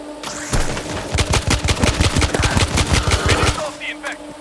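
Rapid machine gun fire in World War Z, a dense burst of sharp shots lasting about three seconds, loud and close, followed by faint game effects.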